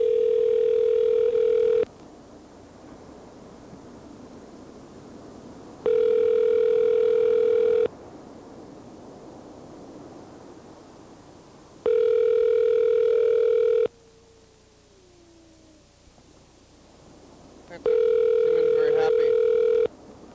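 Outgoing telephone call ringing out before voicemail picks up, four long evenly spaced ring tones of about two seconds each separated by quiet gaps, clear and steady with no talk.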